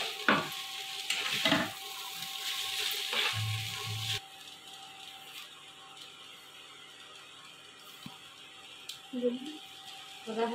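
Chowmein noodles stir-fried in a pan with Maggi masala give a steady sizzle and scraping stir, louder at first and then softer, with a few clinks of utensils and some talk.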